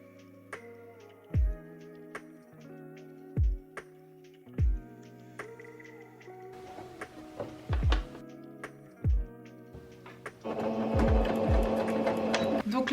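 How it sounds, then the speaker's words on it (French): Sewing machine stitching belt loops onto a trouser waistband, short runs of whirring stitches separated by repeated heavy thunks, ending in a longer continuous run. "je vais les coudre à 1 mm du bord"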